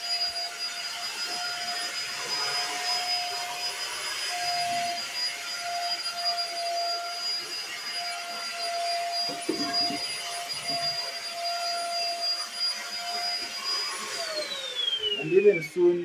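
A vacuum cleaner runs in a home living area, a steady high-pitched motor whine and airflow hum that continues for a long stretch, close by, with brief bumps and a pitch drop as it winds down at the end.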